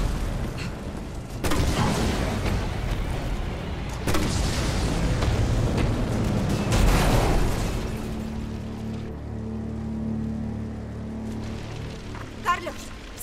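Mine explosions in the Resident Evil 3 Remake video game: several loud, booming blasts, each followed by a rumbling tail, in a dense, noisy game soundscape, with quieter low ambience at the end.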